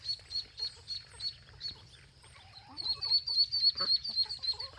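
Ducks and small ducklings out in a pasture, with rhythmic soft quacking and high peeping chirps repeating close by over a low background hum.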